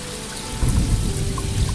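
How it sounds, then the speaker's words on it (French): Rain falling ever harder in an animated children's audiobook, a steady close patter with soft drops, the downpour thickening partway through and continuing alone with no voices. "Plic, plic, faisait la pluie qui tombait de plus en plus fort."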